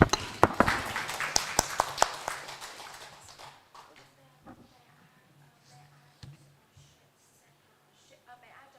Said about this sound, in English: let's give a round of applause for Ms. Chen